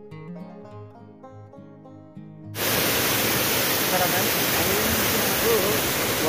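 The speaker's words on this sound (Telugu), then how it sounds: "వాటర్ అయితే చాలా ఎక్కువగా వస్తుంది. చూడండి ఎంత పైనుంచి పడుతుందో," Water plunging from a height at the Sileru Ice Gedda waterfall makes a loud, steady, continuous roar that bursts in after a few seconds of soft music.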